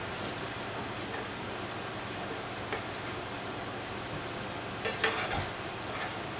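Bacon fries in a 10-inch Griswold cast iron skillet, giving a steady, even crackling sizzle throughout, with a few brief sharper pops and scrapes near the end.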